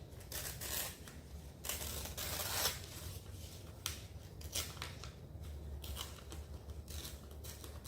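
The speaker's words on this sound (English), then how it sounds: "I think I'll tear her out rather than cut her out." Paper is torn by hand to free a picture of a woman at the beach for an art journal, heard as several close, rough ripping bursts with short pauses between them over a low steady hum.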